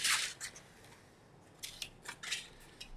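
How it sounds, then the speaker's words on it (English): Scored cardstock being valley-folded along a Cricut score line for a Valentine's card, heard as a few close, crisp paper creases and rubs with no talking. "So let's fold that first fold line."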